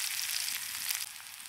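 Chopped onion and green chili fry lightly in a pan for jackfruit pakora, making a brief, soft, steady sizzle that drops slightly in level partway through.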